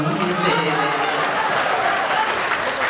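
Applause from an audience after a poetry recital at a memorial poetry gathering: a dense, steady wash of many hands clapping throughout, with some crowd voices underneath.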